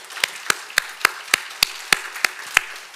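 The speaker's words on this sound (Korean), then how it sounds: "우리 환영의 박수 쳐드릴까요?" Clapping at a Korean Presbyterian church Sunday service, a run of about ten sharp, evenly spaced claps in a steady rhythm, crisp and close with no talk over them.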